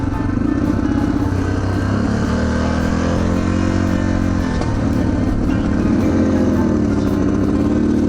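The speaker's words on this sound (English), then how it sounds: "It sounds like it's not firing all the way, but it idles fine. And as soon as I get any gas, it's just" A Yamaha TTR230 trail motorcycle engine runs roughly under throttle, misfiring and stumbling with uneven revving, loud and close throughout with no talking.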